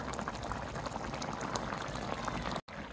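A fish curry with young bottle gourd bubbles steadily in a pot on the stove, a continuous close simmering hiss and crackle with a brief dropout near the end, no talking.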